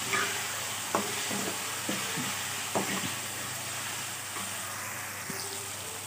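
Thinly sliced, peeled ridge gourd fries in a pan for a curry. A soft, even sizzle runs throughout, broken by a few spatula scrapes and stirring clatters in the first half.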